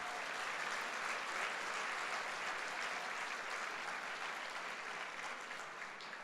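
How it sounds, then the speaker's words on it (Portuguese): Church congregation at a Sunday service applauding together, a dense, steady wash of clapping that holds evenly throughout at a moderate distance, with no voices standing out. "Dá um aplauso a Jesus."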